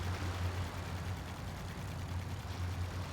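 A boat's engine runs steadily while sailing in the video game Gecko Gods, a constant low rumbling drone with no pauses or talking.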